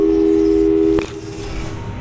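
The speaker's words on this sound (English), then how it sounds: "let's give your parents a call right now" A steady telephone dial tone from Portal 2 holds for about a second, then cuts off with a click, leaving a quieter game-phone ambience.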